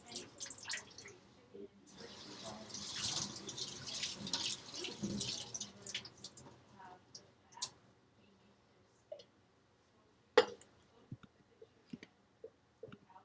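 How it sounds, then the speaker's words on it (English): Beans rinsed under a running sink tap in a kitchen: a soft rush of water for a few seconds, then drips, small clicks and a sharp knock as it stops, fairly faint throughout. "I went over to the sink and I rinsed the beans off in there"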